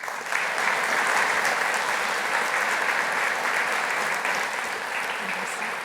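A room of attendees at a cancer research discussion gives steady, full applause that holds evenly for several seconds, close and dense.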